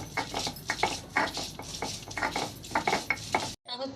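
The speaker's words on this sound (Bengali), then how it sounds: "এদিকে আলুটা ভেজে নিচ্ছি।" Potatoes fry in plenty of mustard oil while a utensil stirs them in the pan, making rhythmic scraping strokes over a gentle sizzle, close and moderately loud, before cutting off abruptly at the end.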